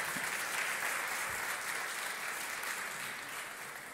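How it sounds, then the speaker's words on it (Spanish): A church congregation applauds during a morning service, producing a dense, even wash of clapping heard faintly from a distance that tapers off slightly toward the end. "Dale un aplauso al Señor en esta mañana."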